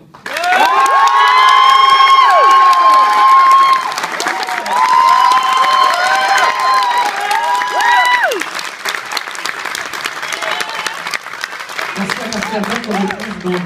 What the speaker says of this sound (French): Est-ce que c'est parti pour l'applaudimètre?